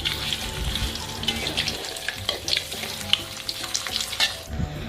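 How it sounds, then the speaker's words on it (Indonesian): Otak-otak bandeng, milkfish cakes coated in egg, frying in hot oil: steady, dense crackling sizzle throughout, close and fairly loud, with no talking. "Oke, tinggal kita goreng semuanya sampai matang."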